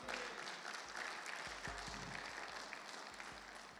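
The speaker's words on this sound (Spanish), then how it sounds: "¿Cuánto le dan un fuerte aplauso al Señor?" A church congregation at an evangelical Christian service breaks into steady, dense applause that fills the room at moderate distance, holding fairly even throughout with a few sharper claps standing out.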